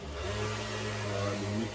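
Scooter engine revving close by, a buzzing mid-pitched motor note that holds steady with a slight rise and fall over a short stretch.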